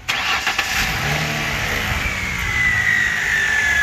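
An old Ford Mustang engine runs steadily and loud, a continuous mid-pitched mechanical drone holding through the whole stretch with a rising whine near the end and no talking.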